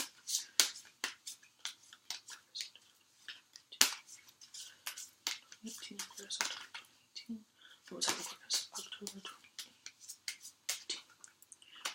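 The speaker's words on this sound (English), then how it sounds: "I have to shuffle 3 separate decks for this particular reading." Repeated crisp riffling and snapping of tarot cards being shuffled close by, in irregular bursts with brief pauses between them.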